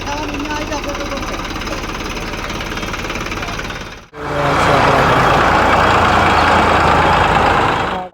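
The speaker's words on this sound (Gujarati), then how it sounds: "નવું ટ્રેક્ટર લીધું છે" A new tractor's diesel engine idles with a steady, chugging rumble, cuts out briefly around the midpoint, then returns louder and rougher as it revs, close by throughout.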